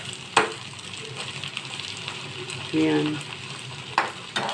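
Sautéed chayote and scrambled egg stirred in a pan, a low sizzle under sharp spatula scrapes and knocks against the pan, close by, with a brief spoken word near the start.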